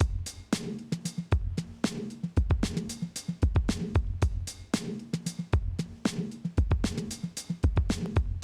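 A tight funk drum groove with thumping kick, crisp snare cracks and busy hi-hat ghost notes, looping steadily for several bars without any voices.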